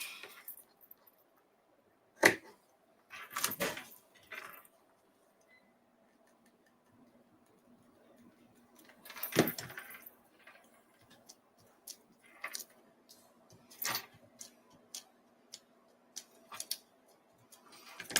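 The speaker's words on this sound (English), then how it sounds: "Let me go ahead and cut this." Scissors cutting paper for book page pockets in a quiet room, a few sharp separate snips and rustles spaced out with long silences between them.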